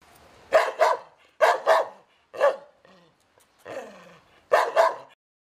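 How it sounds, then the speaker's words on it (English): A dog barks sharply and close by in short bursts, mostly in quick pairs with one single bark and a softer, rougher one between them, each followed by silence. "D for dog."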